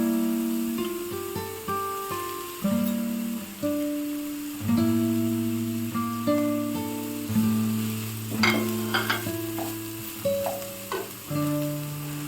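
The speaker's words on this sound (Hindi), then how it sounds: "हल्का सा प्याज को तल लेने के बाद अब इसमें हम गाजर डालेंगे।" Onions frying lightly in a pan for chicken samosa filling, with carrots added, give a steady soft sizzle under a constant background of tonal music that holds throughout.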